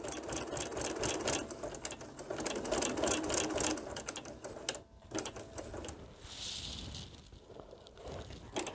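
A sewing machine stitches along the seam of a quilt-as-you-go cover, a fast close rattling hum that runs steadily, pauses briefly, then resumes more quietly with softer mechanical ticking.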